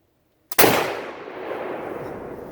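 A short model Lee Enfield rifle fires a single shot of old Pakistani ammunition, opening with a brief hiss, like a flintlock ignition, then a loud sharp crack that decays into a long rolling echo outdoors.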